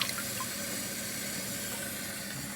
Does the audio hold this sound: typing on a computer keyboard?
no